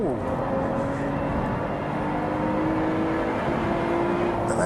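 A Lotus Evora Sport 410 on track, its engine wound up near the top of the rev range, a loud continuous drone with rising harmonics heard from inside the car, a voice speaking faintly beneath.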